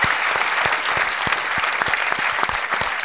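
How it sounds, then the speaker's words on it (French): A comedy-show audience at Le République theatre applauds loudly and steadily, dense clapping filling the whole stretch with a few sharper individual claps standing out near the front. "On les applaudit très fort."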